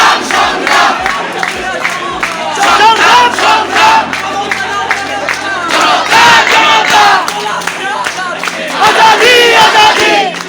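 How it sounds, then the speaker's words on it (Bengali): Protesting university students chant slogans together outside a student union office, a loud, rhythmic mass of voices rising and falling in waves that carries on throughout. "বিক্ষোভ কর্মসূচিতে শিক্ষার্থীরা নানামুখী স্লোগান দেন।"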